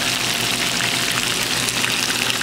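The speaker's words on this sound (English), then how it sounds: "The fat is giving up its moisture. That's why it's popping." Chicken fries in a pan with its fat popping, producing a close, dense, unbroken sizzle peppered with fine crackles and no voices.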